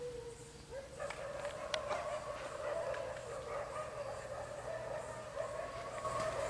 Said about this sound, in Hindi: कुत्तों की आवाज़ तेज होती आ रही है।